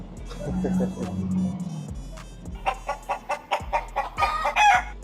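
A rooster clucks and crows close by in a series of loud bursts, after some low background rumble and faint voices.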